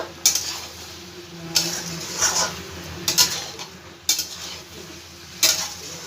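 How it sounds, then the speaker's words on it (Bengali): Stirring a mixed vegetable curry with grated ginger in a pan: several sharp spoon-on-pan scrapes and clinks come at irregular intervals over a faint background sizzle, with no talking. "ভালো করে আবার একটু নাড়ানাড়ি করে দেবো"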